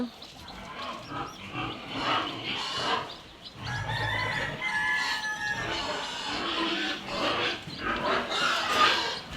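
Chickens cluck and call from close by on a pig farm at feeding time, mixed with scattered farmyard noises, while a person talks intermittently.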